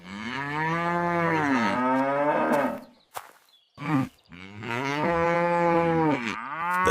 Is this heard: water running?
no